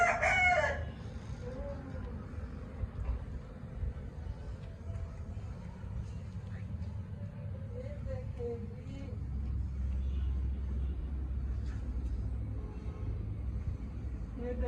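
An Aseel rooster crows once on a rooftop, a short loud call near the start, followed by faint clucking and background rumble with quiet voices.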